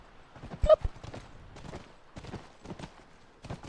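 Horse hooves clip-clopping in the video game The Last of Us, irregular clusters of hoof knocks at moderate level, with quiet gaps between bursts.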